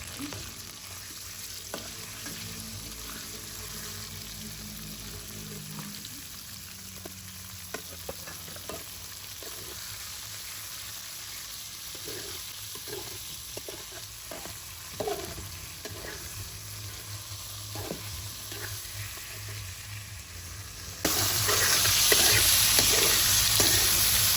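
Pork fries with onion in a pan for a bihon noodle dish, giving a soft, continuous sizzle broken by scattered scrapes and clicks of stirring, then a louder hiss of frying in the last few seconds.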